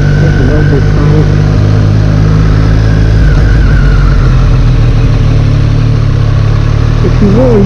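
A 2017 Triumph Street Triple 765 RS motorcycle engine idles loudly and close by, a deep steady exhaust rumble that shifts slightly partway through, with a voice talking over it.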